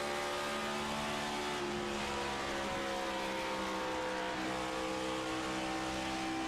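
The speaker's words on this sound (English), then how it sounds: "You hear the throttle with these cars" Race cars from the ECR NextGen Cup Series at Smokey Mountain in a sim racing game hold a steady, dense engine roar at full throttle through the corners, with brief tire squeal and continuous revving and no talking.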